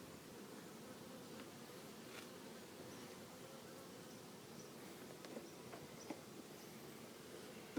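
Honey bees in an open hive during an inspection, a faint steady buzzing drone with a few soft ticks and knocks scattered throughout, no talking.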